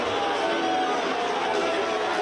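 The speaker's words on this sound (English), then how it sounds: "Crowd chanting pizza box." A wrestling crowd in Melbourne chants in unison, a steady, massed roar of many voices filling the arena at moderate distance.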